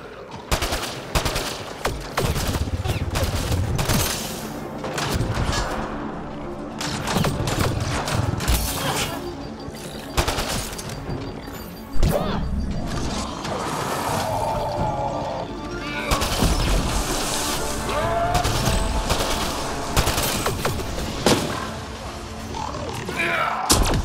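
Heavy shotgun blasts and other gunfire in Mass Effect: Andromeda, with repeated sharp shots, crashes and grunts scattered across a long, busy combat stretch, plus occasional speech.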